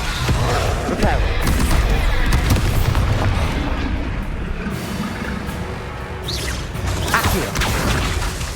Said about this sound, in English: Reparo.